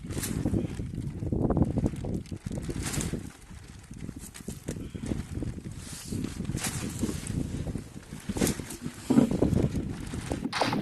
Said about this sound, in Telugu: గాలి సౌండ్ అయితే మీకు వినిపిస్తుంది కదా ఫ్రెండ్స్ ఇగో గాలి అయితే మస్తు పెడుతుంది